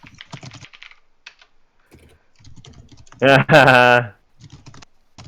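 Computer keyboard typing clicks in short scattered bursts during a tabletop Dungeons and Dragons session, fairly close, with a brief loud voice cutting in midway.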